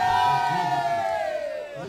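Fans at the end of an amateur club sports championship cheering together, a loud sustained crowd roar with high shouting voices swelling and fading.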